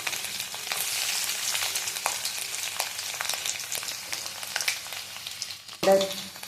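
Mustard seeds, cumin, curry leaves and chopped garlic sizzle in hot oil in an iron kadai, a steady dense crackle with popping seeds and stirring scrapes, and a louder burst near the end as more goes in.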